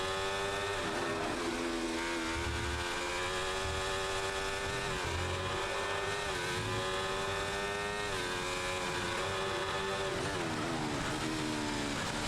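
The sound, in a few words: race car driving on wet track, racing video game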